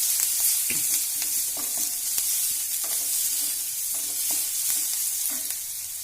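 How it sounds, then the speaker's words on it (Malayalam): Chopped onion and curry leaves fry gently on a low flame with a soft, even sizzle, while a spoon stirs the pan in light scraping strokes. "ഇത് ചെറിയ തീയിൽ മൂക്കട്ടെ."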